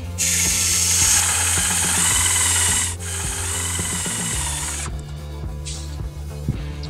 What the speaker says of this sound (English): Now we want to secure our rail section to the clips by driving screws top and bottom, both sides.